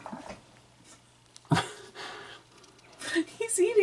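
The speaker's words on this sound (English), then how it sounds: "There's a puppy in here making noises," A puppy indoors making small whimpering, snuffling and panting noises in short scattered bursts, close by and fairly quiet, mixed with light rustling.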